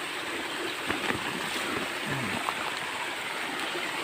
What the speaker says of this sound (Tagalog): Napakaganda po ng batis natin dito